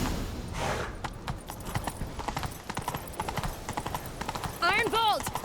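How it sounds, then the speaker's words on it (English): Horses clip-clop in a steady, fairly close series of hoof strikes during a chase after a fleeing man, with a horse whinnying near the end and voices talking over the hooves. "Grab a horse, we'll chase him down."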